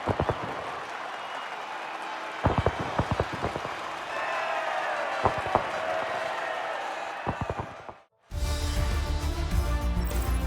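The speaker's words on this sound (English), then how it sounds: "the reaction from the crowd must be incredibly uplifting for them" Crowd at the podium after a race in Mexico in the F1 23 video game, a steady roar of cheering and applause with sharp claps and bangs, cutting out briefly before a louder burst of music-like crowd noise.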